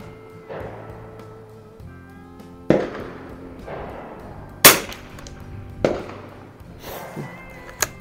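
A 1952 Remington 513-T target rifle fires several sharp, separate shots with a few seconds between each on a windy outdoor range, each crack followed by a brief echo.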